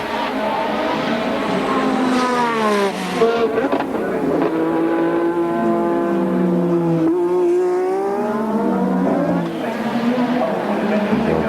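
A Formula One race car at full power past the start-finish line during 1986 Australian Grand Prix qualifying, its high engine note rising and falling steadily throughout under continuous commentary.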